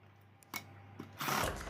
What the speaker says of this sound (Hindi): तो मैं इसमें लगाऊंगा सिलाई।